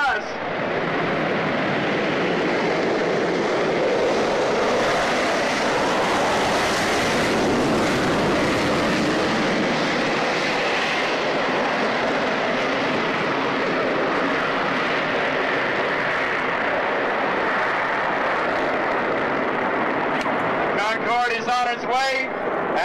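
A Concorde jet moves down the runway at a 1980s airshow at Browns Field in San Diego, a loud sustained roar that swells and holds for about twenty seconds, with crowd voices in the background.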